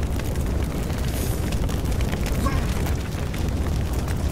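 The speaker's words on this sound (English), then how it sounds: "Oh, God, now the room's on fire." A room catching fire in the horror game Pyrolyzis, a loud, steady roaring rumble with crackling bursts, continuous throughout.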